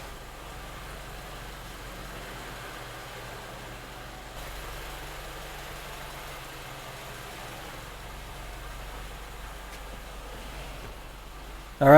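A Honda Element engine idles steadily during an idle relearn, a vehicle known for a low, fluctuating idle, giving a continuous low rumble with a slight rise in level partway through and no talk.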